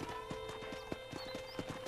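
Horse hooves clip-clopping in Red Dead Redemption, a steady walking rhythm of sharp hollow knocks, about two per half second, close against a constant faint background hum, with no voice.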